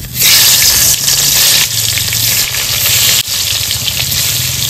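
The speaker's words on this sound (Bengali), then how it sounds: "তো মাছটা ভেজে নেব" Rohu fish pieces coated in salt and turmeric frying in hot mustard oil in a kadai, a loud, steady hissing sizzle that swells and dips slightly, with no talking.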